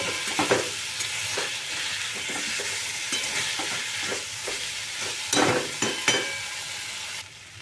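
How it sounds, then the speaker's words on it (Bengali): Chopped squash and other vegetables with spices sizzle steadily in a pan over a low flame, broken by frequent scraping stirs and a few louder clatters, with no one talking. "এবারে সব সবজি মশলা সমেত আমি একসাথে এটাকে লো ফ্লেমেই কিন্তু ভালো করে কষিয়ে নেব"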